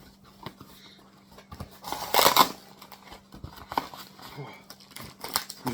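Sharp snipping of scissors comes in a few irregular cuts, with a burst of rustling packaging in the middle and a voice talking quietly.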